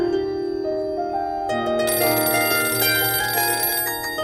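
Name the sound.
telephone ringing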